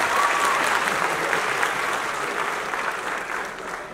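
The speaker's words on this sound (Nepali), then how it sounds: "हामी सबैले सम्माननीय प्रधानमन्त्री केपी शर्मा ओलीलाई ताली बजाएर अभिनन्दन गरौँ।" Sustained applause from a large audience fills the whole stretch, steady and dense, for Prime Minister KP Sharma Oli at a public gathering.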